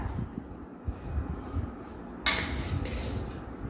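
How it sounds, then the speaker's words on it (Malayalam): A pressure cooker lid is shut over a Kerala-style buffalo meat pickle mixture, with a sharp metallic clack partway through and softer clinks and handling knocks around it, fairly close and without speech. "നമുക്ക് പ്രഷർ കുക്കർ അടച്ച്"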